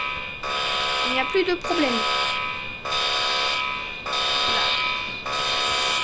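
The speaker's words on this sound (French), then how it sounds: "On stoppait l'alarme." An alarm sounds in repeated loud, steady buzzing bursts with short gaps between them, and a voice speaks briefly over the first bursts.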